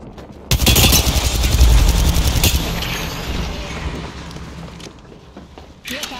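Gunfire in the video game Apex Legends, a sudden loud burst of rapid shots followed by a dense stretch of rumbling game effects that slowly fades, with another sharp hit near the end.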